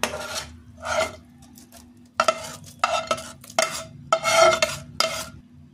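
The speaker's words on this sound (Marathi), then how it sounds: "आता हे सगळा मसाला आपण या चिरमुरेमध्ये मिक्स करून घेऊ।" Masala being stirred into puffed rice (churmure) for girmit, a series of rhythmic crisp rustling scrapes in bursts, close and fairly loud.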